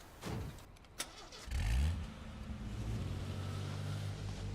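A car engine in the survival game H1Z1 starts up and revs, a low droning rumble that climbs in pitch and then settles into a steady idle close by, with no talk over it.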